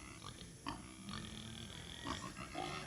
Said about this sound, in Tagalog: Inahin pala ang tawag sa anay. Inahing baboy.